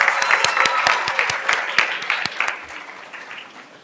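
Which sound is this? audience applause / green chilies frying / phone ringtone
audience applause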